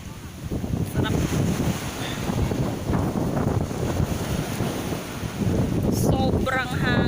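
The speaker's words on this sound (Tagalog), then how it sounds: "Sobrang hangin." Strong wind blusters across a microphone on a beach at Laiya, San Juan, Batangas. Heavy low rumbling gusts run throughout with surf behind them, and faint voices are heard near the end.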